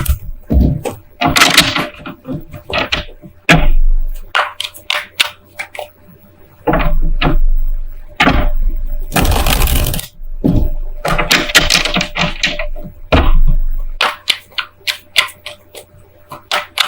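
Tarot cards are riffled and slapped together close by in quick, noisy bursts with short pauses between shuffles.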